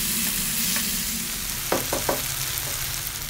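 Green chillies frying in a pan for a spicy Kerala-style egg roast, with a loud continuous sizzle and a few quick scrapes from stirring near the middle, and no voices.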